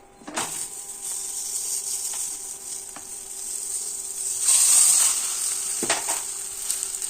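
Thalipeeth dough laid on a hot oiled griddle sizzles steadily at close range, swelling into a louder hiss midway, with a few soft scrapes and taps from handling, no talking.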